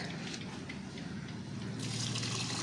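Water poured from a can onto dry soil in a potted plant, a continuous close splashing trickle that grows slightly louder and brighter partway through.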